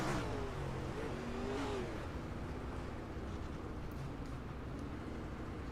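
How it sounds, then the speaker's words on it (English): Race car on a dirt track in a Thunder Racing League event at the Bryan Clauson Memorial, engine roaring steadily with a revving pitch that rises and then drops as the car slows under braking, loud and close throughout. "You hear Jay even jumped on the brakes, just couldn't get slowed down in time."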